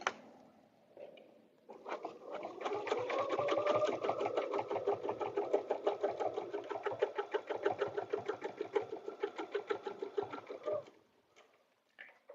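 Sewing machine stitching a paper-pieced fabric butterfly for a dresser scarf: a rapid, even mechanical chatter starts after a short pause, runs steadily for about nine seconds close up, then stops.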